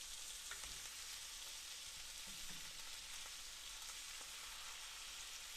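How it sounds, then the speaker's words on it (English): Red onions sauté in a pan, with a continuous, fairly faint hiss of frying and a few light scrapes of turning, and no talking. "So I'm gonna let these brown up and saute at the same time."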